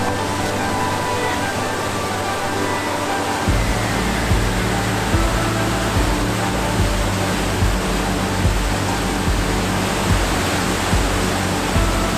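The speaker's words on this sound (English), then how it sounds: "I think I'll go down to the waterfall instead" Waterfall in the Ogwen Valley, Snowdonia, roaring loud and steady at close range, a dense broadband rush that swells in abruptly after a few seconds of quieter background and then holds constant without voices.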